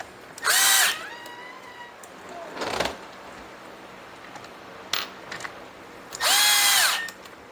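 A power driver tightens the side cover screws on a Craftsman chainsaw in bursts, with two sustained high whirs and a couple of shorter spins, separated by quiet pauses.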